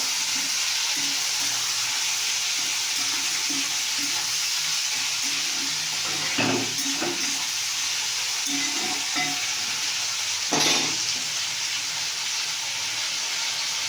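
Food frying in a kadai with turmeric added is stirred, giving a steady loud sizzle with repeated scraping strokes of the spoon against the pan, close up and with no talking.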